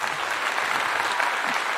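Live comedy-show audience clapping in a dense, steady burst of applause, close and continuous for under two seconds with no voices over it.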